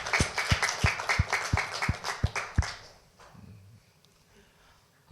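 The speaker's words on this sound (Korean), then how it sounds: "우리 주님께 영광의 박수 한번 드리겠습니다." A church congregation at a Sunday morning service claps together in a steady, fast rhythm of sharp, even beats for nearly three seconds, then falls to a quiet murmuring room.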